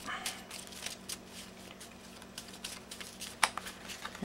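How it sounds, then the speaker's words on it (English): Playing cards being shuffled by hand during a card trick, a run of quick, light crisp riffles and flicks, close and fairly quiet, ending in a sharper burst. "Now I'm gonna shuffle through these cards a little bit."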